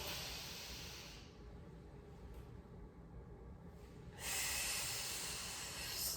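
During a barbell squat, with the bar resting on the back, a person draws a long, deep breath in through the nose. The breath is audible and airy, and its loud final stretch sits close to the mic.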